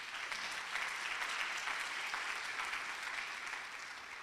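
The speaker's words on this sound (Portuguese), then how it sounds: "Dá um aplauso a Ele aí, ó." Congregation applauding during a church sermon, steady sustained clapping from many hands that fills the room without a break and fades slightly at the end.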